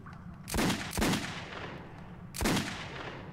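Pistol shots in the Metro 2033 video game: three loud, sharp reports, two close together and a third after a pause, each with a short ringing tail over a low rumbling background.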